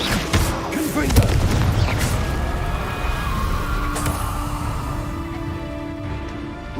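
The Confringo fire spell in Hogwarts Legacy explodes as a loud blast, then trails off in a long rumbling decay with scattered crackles over several seconds.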